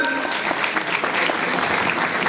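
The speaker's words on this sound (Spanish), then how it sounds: "vamos a pedir fuerte el aplauso" A short burst of loud, steady audience applause at an international Mercosur pasista dance competition in 2023, with the crowd clapping continuously without pause.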